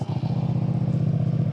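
A 300cc V-twin motorcycle engine idles steadily up close, with a loud, even, throbbing exhaust beat and no other sound on top.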